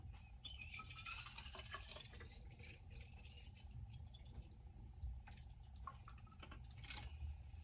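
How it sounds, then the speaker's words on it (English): Homemade rosemary hair rinse poured from a pot into a container, a faint steady trickle and splashing of liquid with a few drips, fairly quiet throughout with no talking. "So I'm just going to pour it into this container now."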